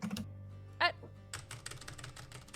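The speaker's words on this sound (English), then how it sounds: "Aggressive typing." Aggressive typing sound effect in the video game Frog Detective 3, a burst of rapid keyboard clatter with a sharp tone blip, then busier clicking over a steady low game hum.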